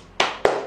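Two sharp, crisp hand claps about a quarter second apart, close and loud, with no voices over them.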